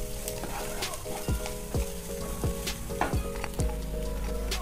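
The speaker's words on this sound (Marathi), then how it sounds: "त्याच्यानंतर थोडीशी फोडणीला अशी कोथिंबीर टाकायची." Coriander sizzles in hot oil as the tempering for kanda poha, a steady close crackling hiss broken by several scraping stirs of the pan.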